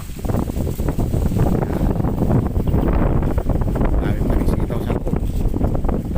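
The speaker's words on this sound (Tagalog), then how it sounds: "Malakas ang hangin." Steady, strong wind roars and buffets the microphone outdoors in Pangasinan, Philippines, a continuous rumbling rush with no pauses.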